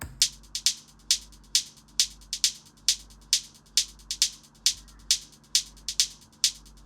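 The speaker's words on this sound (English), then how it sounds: "Another hi-hat." Crisp, rapid hi-hat hits tick in a steady, driving pattern through a tribal techno track, with a low bass hum sitting underneath.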